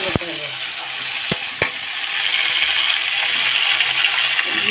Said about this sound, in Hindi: इसमें जाएगा ये झींगा, मूली है, गोभी है, इन सबको हम अच्छे से भून लेंगे।